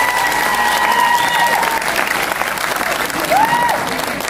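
Audience applause after a drama performance at the Rawalpindi Arts Council, loud sustained clapping from a large crowd filling the whole stretch, with faint voices underneath.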